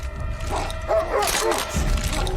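A dog on a television show barks and yips excitedly in several quick bursts, close and loud over a steady background of scene noise and movement.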